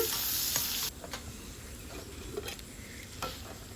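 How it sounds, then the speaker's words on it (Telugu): Onion frying in a pan for a tamarind-leaf prawn curry, a soft steady sizzle broken by scraping stirs and occasional clinks of a spoon against the pan, heard close. "ఈ ఉల్లిపాయ కూడా వేసేసుకొని మనం వేయించేసుకున్నాము"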